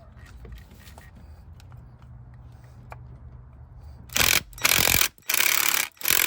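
An 8mm socket ratchet loosens valve cover bolts on a GMC V8 engine: faint clicks and rubbing at first, then a few loud close bursts of ratcheting in the second half.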